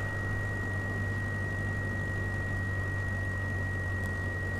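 Aircraft engine in Microsoft Flight Simulator during an attempted landing with a homemade glider: a steady, even drone with a constant high whine, no talking.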